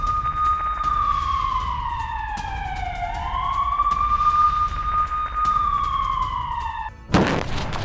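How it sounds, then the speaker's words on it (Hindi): A loud, wailing air raid siren in a Ukrainian city slowly rising and falling in pitch for several seconds, ending with a brief clunk and noisy burst. "कई शहरों में हवाई रेड सायरन बज रहे हैं"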